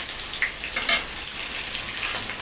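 Chopped medium-sized onion frying in a little oil for a Bengali ilish fish curry, a steady hiss of sizzling with a couple of brief stirring clinks, close and with no talking.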